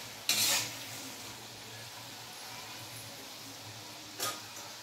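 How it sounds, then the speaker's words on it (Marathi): Pakoda fritters frying in oil for Marathi kadhi pakoda, turned gently with a spatula: a soft continuous bubbling sizzle with two brief scraping stirs against the pan, close and fairly quiet, no talking. "हळूवार असं खाली वर केल्यानंतर त्या आतपर्यंत शिजून घेतील, आतपर्यंत शिजले जातील। व्यवस्थित आपण हलवून घेऊया।"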